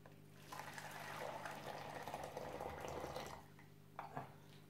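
Water pours steadily into two Tupperware Rührmix shakers, a soft running fill lasting a few seconds before tapering off, followed by a couple of faint drips and light clinks, quiet and close with no talking.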